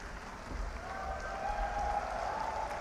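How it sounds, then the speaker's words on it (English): A crowd at a university convocation applauds, a dense, steady patter of many hands clapping from across a large hall, fairly faint and continuous throughout. "let's clap for the occasion"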